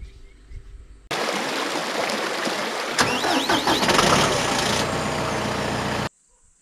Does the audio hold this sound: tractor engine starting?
yes